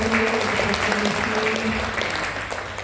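An audience at a school parenting session on puberty for fifth-grade families applauds after a doctor's talk, producing a sustained wash of clapping over a steady low hum, tapering slightly near the end.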